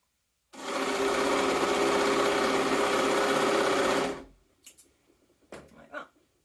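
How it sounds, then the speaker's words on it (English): A sewing machine stitches the end of a jumpsuit strap closed, running right over the top. One continuous, close, steady burst of about three and a half seconds is followed by light handling clicks and rustles. "So I'm going to sew this end closed that's nice and neat"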